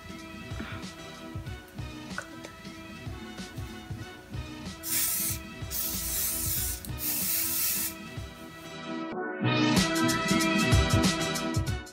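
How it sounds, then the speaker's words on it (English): Several close bursts of aerosol hairspray hiss onto curled hair, interleaved with rustling and handling noises, each spray a short loud rush. "And then what I do is I just grab some hairspray"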